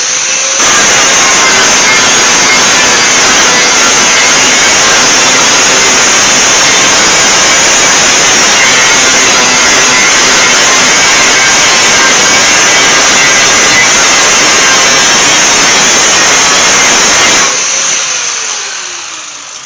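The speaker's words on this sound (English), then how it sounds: "Now I can grind this what little Bondo I got off of here" Power grinder taking Bondo filler off the body of a 1929 Chrysler, a very loud, harsh, continuous high-pitched whine for about seventeen seconds, then stopping and spinning down.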